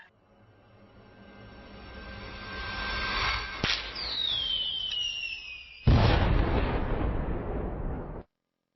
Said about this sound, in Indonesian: Kembang api yang indah sekali.